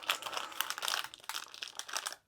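A resealable plastic packaging bag is opened by hand, giving close, brisk crinkling and rustling in irregular bursts that stop abruptly at the end.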